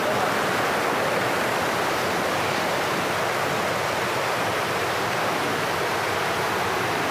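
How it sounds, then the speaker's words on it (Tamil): A waterfall near a tribal village gives a steady, loud roar of rushing water, an unbroken broadband wash that runs evenly throughout without any talking. "தண்ணி ஓடுறதுனாலே சவுண்டு கேட்கலாம் நினைக்கிறேன்"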